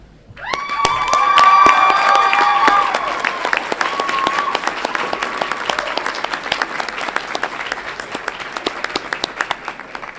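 At a college commencement, graduates rise and give a long, loud standing ovation. Dense clapping and cheers swell at first, with sustained whooping over the top, then thin out into scattered claps.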